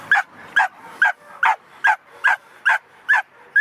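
A dog barks in a steady, evenly spaced series of about nine sharp yelps during a dog-and-hare chase competition in the Greek countryside, loud and close with no talk over it.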